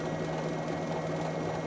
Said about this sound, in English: Turning the bowl over, it gets mounted by the tenon and I check that it's running true at a slow speed.